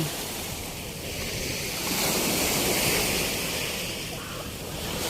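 Sea waves wash steadily onto the shore at Manila Bay's Dolomite Beach, a continuous close roar with a gentle surge in the middle, mixed with wind buffeting the microphone.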